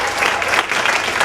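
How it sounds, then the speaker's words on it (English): Dense, steady audience applause at an African American recognition dinner in Hamtramck, continuous clapping from many hands throughout. "Let's give them all a nice round of applause and recognition."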